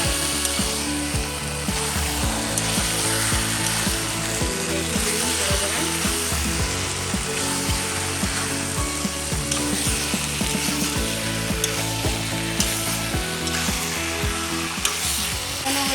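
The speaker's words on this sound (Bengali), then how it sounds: "নুন দিয়ে এখন নাড়াই দিচ্ছি" Salted mutton is stirred in a cooking pot, giving a steady loud sizzle with a spoon scraping and clattering against the metal throughout.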